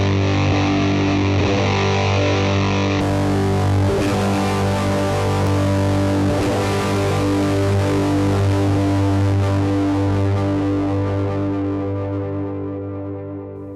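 Guitar chord with a fuzz effect through a Fender Mustang GT amp, a single thick distorted chord ringing for about fourteen seconds, the tone brightening partway as the effect moves from before to after the amp, then slowly fading.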